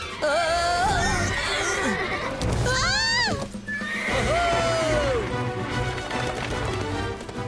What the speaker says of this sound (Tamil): இந்த வயதான குதிரை அசைய மாட்டேன் என்று மறுக்கிறது